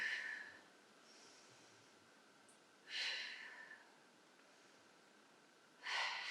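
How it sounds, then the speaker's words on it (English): Deep breathing during a Pilates exercise: three slow, audible breaths, air drawn in through the nose and released through the mouth, each a soft breathy rush spaced a few seconds apart, close and quiet with no talking. "let's take 3 deep breaths here. Inhale through the nose,"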